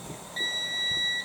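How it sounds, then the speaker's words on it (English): An air fryer cooking jacket potatoes gives out a single steady electronic beep of about a second, clear and fairly close, with faint room noise around it. "That noise you hear is our air fryer."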